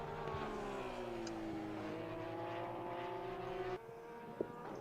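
A Porsche race car in Assetto Corsa Competizione drones steadily at high revs through wide corners at Spa, the engine note holding near constant before a brief dip and a small click near the end, with no voices.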